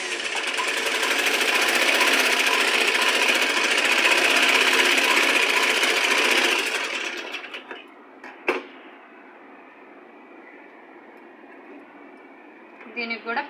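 An electric sewing machine runs steadily for about six seconds, stitching piping around fabric, then stops, leaving a faint room hush with a sharp click and a few small handling taps.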